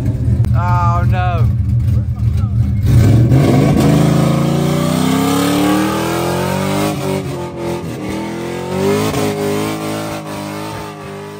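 A Dodge and a Toyota rev their engines before a street race, with rising roars and sustained loud engine drone close by, while people talk and shout over the noise.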